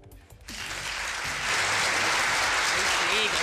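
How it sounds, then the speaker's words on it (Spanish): Studio audience on a Chilean afternoon television show bursting into applause after a brief pause, clapping swelling quickly and holding loud and dense, with a voice calling out over it. "Deme un aplauso más largo"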